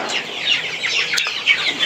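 Young Sonali hybrid broiler chickens on a small farm chatter and cluck near their water drinkers, a steady stream of high, overlapping peeps and clucks from a flock at close range.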